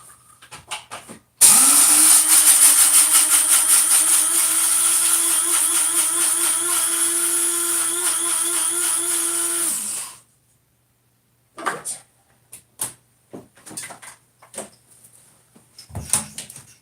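An electric coffee grinder grinds coffee beans: a loud, close whirring motor drone holds steady for about nine seconds, then stops abruptly and is followed by soft knocks and handling sounds.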